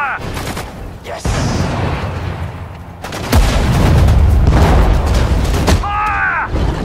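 Gunfire and artillery blasts from units in Sudden Strike 4 during the Battle of the Falaise Pocket, with several sharp close bursts followed by a loud, sustained rumbling barrage and a short, chirpy interface tone near the end.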